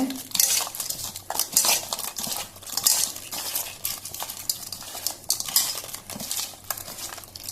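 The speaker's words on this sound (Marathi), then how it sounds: "हे इतलें घालून सगळें पळय ते मिक्स करपाचे" A garam masala mixture is stirred in a pan, the metal spoon scraping and clinking repeatedly against the pan over a light sizzle, close up with no talk.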